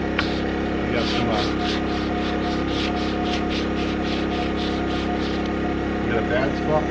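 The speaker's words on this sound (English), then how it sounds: "I'm going to do a real light sanding on the top of this" Continuous soft rubbing of sandpaper lightly sanding the top of unfinished wooden furniture in repeated strokes, close, over a steady electrical hum.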